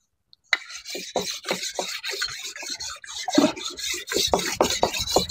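Hardened knife blade sharpened on a whetstone, after a moment of silence a steady rasping scrape of repeated strokes, close and fairly loud, with no talking.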